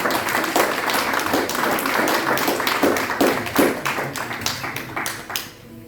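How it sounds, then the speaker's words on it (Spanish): Applause from a church congregation during a Sunday service, steady dense clapping filling the space for several seconds before fading out toward the end. "Démosle un aplauso al Señor que ha hecho esta grandes obras"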